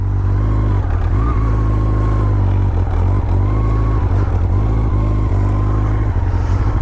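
A 1984 Honda CB700 SC Nighthawk S motorcycle pulls away and rides on a road in Clumber Park, its engine loud and close with repeated revving surges and gear changes.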